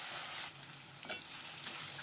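Ground green masala paste fries in a hot pan for a papdi (gevda) curry, giving a steady close sizzle with a brief stirring scrape partway through and no talking.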